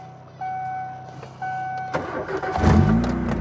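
A 2001 Timor DOHC car cranks and starts with a rising engine roar after a couple of steady electrical whines, all close and loud.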